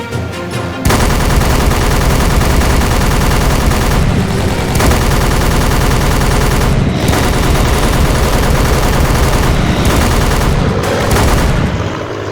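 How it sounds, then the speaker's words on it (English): Anti-aircraft guns in the PC game Battle For The Pacific fire in a loud, continuous rapid barrage that runs nearly unbroken for the whole stretch, with only a few brief dips. "There's no satisfaction in shooting the AA guns"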